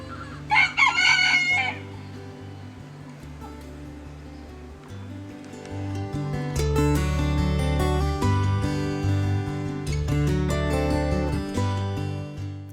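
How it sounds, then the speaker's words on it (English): Red jungle fowl crowing at Cabezas de San Juan nature reserve in Puerto Rico, a loud close crow at the start followed by other birdsong and overlapping calls over a steady background drone. "one of the most abundant birds in Puerto Rico and a great wake-up call, the red jungle fowl"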